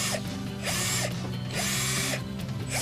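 Cordless drill-driver set to reverse, backing screws out of a shelf: loud whirring bursts with ratcheting clatter, repeated in several pulses close by, no voices.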